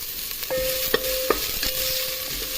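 Onions fry in a pan while being stirred for a mint chicken dish, steady sizzling broken by several sharp metallic clinks and scrapes of the spoon, close and with no speech.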